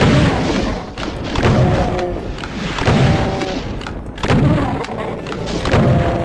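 Repeated heavy thuds and booms of gunfire cutting down enemies in Doom's Plutonia Experiment, bodies dropping in a steady, loud rhythm of impacts with ringing tones between, no talk over it.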